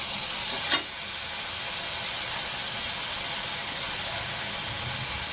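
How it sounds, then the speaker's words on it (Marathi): Green chilli and ginger-garlic paste sauté in hot oil in a pan, with a steady, loud, even sizzle and a single short clink near the start. "हिरवी मिरची, आलं लसूण पेस्ट, चांगलं परतून घेऊ."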